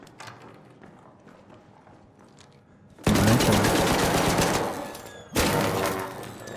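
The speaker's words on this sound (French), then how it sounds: "Un mec qui tire." Loud bursts of rapid gunfire from a shooter in the video game ARC Raiders, a sudden heavy volley after quieter background sounds, then a second burst a couple of seconds later.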